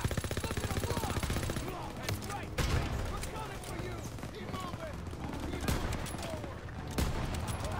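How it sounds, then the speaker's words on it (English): Gunfire from a war video game with German forces: bursts of rapid shots and heavier blasts run throughout, fairly loud, with several sharp louder reports, and a voice talks over the shooting. "What is shooting me?"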